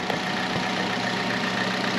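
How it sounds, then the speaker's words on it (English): A 2012 Chevy Cruze engine idling with the air conditioning switched on, a steady, even mid-low hum with a faint whirring layer, recorded close and alone. "So with the engine running, on the inside I've got the air conditioning turned on"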